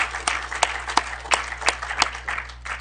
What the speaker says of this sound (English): So one more round of applause for all of our assignees.